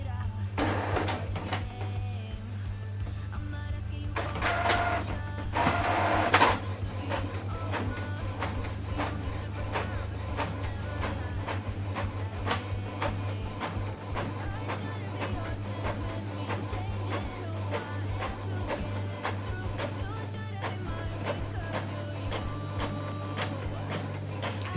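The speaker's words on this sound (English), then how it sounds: "So it's printing." A Canon printer runs a document job, a continuous mechanical whir broken by repeated soft clicks and a short louder feed burst, with occasional talk over it.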